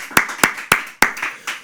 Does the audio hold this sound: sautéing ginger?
no